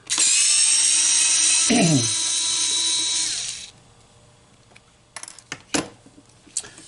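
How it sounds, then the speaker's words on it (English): A small electric power drill whirs loudly for a few seconds unscrewing screws from a plastic toy's back shell, its pitch dropping as it stops, followed by light clicks and small screws clinking. "So once we get those 6 screws out, we can remove this back shell."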